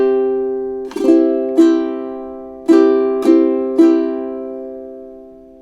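A ukulele is strummed through two measures at tempo: five bright, ringing strums in an uneven rhythm, each chord left to ring and decay, close and clear with no talking.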